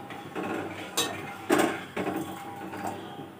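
A spoon stirs milk in a pot for homemade ice cream, making gentle metallic scrapes and clinks against the pot in a loose, repeating rhythm, close and moderately loud.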